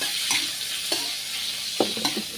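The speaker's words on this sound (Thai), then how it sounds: "ใส่ลงไปผัด เพิ่มความหอมครับ ให้กับ เนื้อหมูสามชั้นของเรา" Ginger, salt and pork belly sizzle steadily in a pan over low heat while a spatula stirs and scrapes it in a few sharp strokes, loud and close, with no talking.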